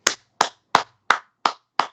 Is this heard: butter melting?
no